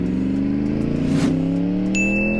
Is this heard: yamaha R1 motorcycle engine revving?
yes